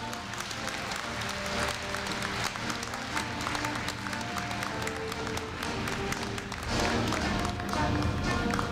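A large hall audience at a Korea University freshman entrance ceremony applauds a scholarship recipient. Dense, steady clapping fills the space throughout and swells slightly near the end.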